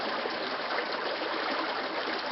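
Water rushing over rocks in rapids mid-river on the Mekong, a steady broadband gushing roar, close and continuous with no voices.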